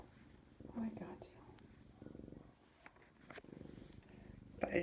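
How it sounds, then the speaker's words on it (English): A kitten's soft, continuous purr rumbles close by, mixed with quiet voices and light handling noises. "Yeah, she's purring."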